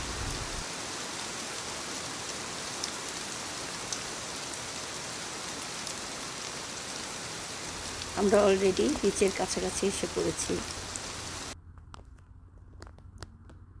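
Steady rain near a beach, heard from a car, makes a constant hiss that fills the whole clip. A person talks over it briefly near the end, then the rain noise drops off sharply.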